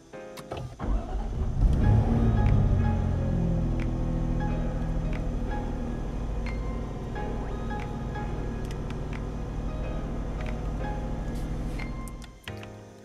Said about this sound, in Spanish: vamos a encender este motor V6 del Jaguar F-Type